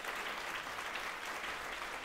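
An audience at a live stage show claps in steady, dense applause that stays even throughout, with no voices.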